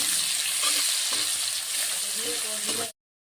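Gandho bhadali leaves fry in a small amount of oil with a bright, steady sizzle and occasional stirring scrapes, then stop abruptly.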